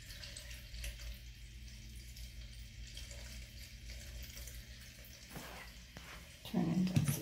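Water drains from a Super Deal portable washing machine through its drain hose, a steady low rush and trickle that runs throughout and surges louder near the end.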